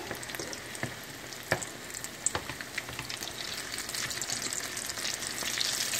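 Salt cod fritters frying in hot oil, a close, dense bubbling crackle with sharp pops and occasional utensil knocks, growing slightly busier toward the end.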